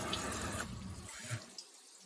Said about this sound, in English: we're going to run a little more cold water on these